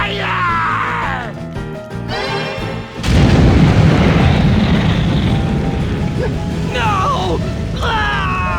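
A Fire spell in the Bravely Default video game sets off a loud, rumbling explosion with a long roaring tail, amid shouting game voices and bright chiming magic effects.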